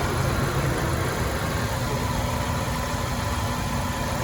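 A 2003 Toyota Corolla Altis 1.8G automatic idles steadily and smoothly, a close, even engine hum with faint vibration and no talking.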